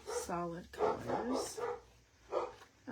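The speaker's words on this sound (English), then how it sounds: "I know you guys can probably hear my dogs barking" Pet dogs bark in short bursts indoors, the barks mixed in with a woman's steady chatter, fairly close and moderately loud.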